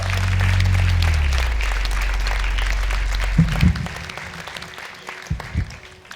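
Audience applause at a televised X Factor gala, a dense wash of clapping that is loud at first and then gradually thins and fades, with a few low thumps near the end.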